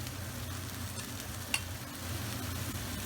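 Browned beef mince sizzles in a pan for cottage pie while a utensil stirs it, giving a faint continuous hiss with a single soft scrape.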